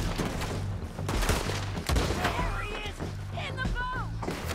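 Rapid bursts of gunfire in Red Dead Redemption 2 crack loudly and repeatedly, with short pauses between volleys and a few high electronic whines mixed in.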